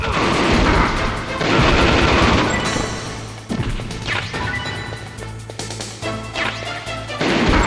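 Gunfire in Metal Gear Solid, with loud bursts of rapid shots and crashing impacts that come in several clusters separated by short pauses.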